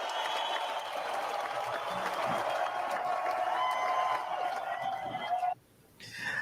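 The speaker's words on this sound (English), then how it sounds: "please give them all a big round of applause" Audience applause for guests at a morning event on women and money, a sustained wash of clapping that drops away abruptly near the end before a brief resurgence.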